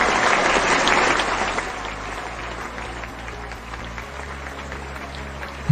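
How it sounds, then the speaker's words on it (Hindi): Sustained audience applause at a DXN direct-seller meeting, loud and dense at first, then gradually thinning and fading while a low hum runs underneath. "डॉक्टर लिंसी जी के लिए जबरदस्त ताली होनी चाहिए"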